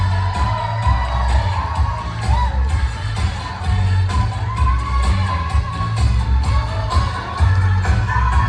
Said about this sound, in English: Ladies and gentlemen, how about a big round of applause for Ray Schneider and Lynn Schneider.